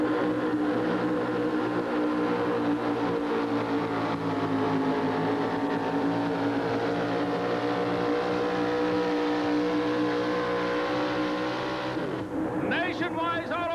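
Engine of the Nationwide Auto Parts Ford pulling truck roaring steadily at a 1987 Indianapolis truck and tractor pulling event, loud and sustained with a public-address announcer talking over it throughout.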